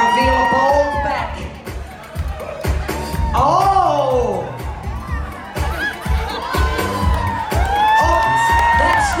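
A crowd on a Carnival Splendor cruise ship cheers at a hairy chest contest, with loud whoops, shouts and rising whistles layered over steady chatter, swelling in waves while a voice talks over it.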